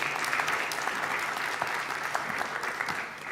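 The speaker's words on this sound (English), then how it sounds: "Let's give a big round of applause" Warm applause from a talk-show audience on the Albright Stage as Ghana's foreign minister is welcomed, dense and continuous clapping that holds steady and eases slightly at the end.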